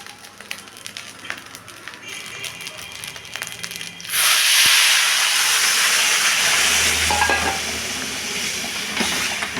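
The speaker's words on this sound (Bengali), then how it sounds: "এবার তার মধ্যে গরম জল অ্যাড করবো।" Hot water poured into a pot of shahi pulao sends up a sudden loud, sustained steaming hiss and sizzle that settles slightly but continues, following a few quieter clinks and kitchen noises.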